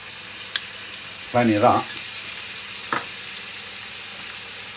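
Ginger garlic paste hits a hot frying pan with a brief loud sizzle and stir for about half a second, followed by a faint clink against a steady low kitchen background.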